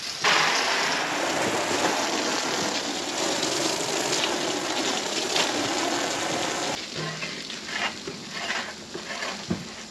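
Water gushes steadily into a pool, a broad continuous rushing hiss that changes character partway through, with some irregular splashing toward the end.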